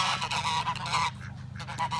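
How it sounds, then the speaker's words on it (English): Geese honking aggressively while attacking on a farm, a rapid series of loud, close, harsh honks broken by a brief pause before more calls. "I'm a survivor of a geese attack."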